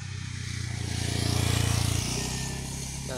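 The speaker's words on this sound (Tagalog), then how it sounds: "Dito pa dadaan ang mga motor," Motorcycles ridden past on a roadside, heard as a steady low engine drone that swells toward the middle and eases off, passing close with no talking.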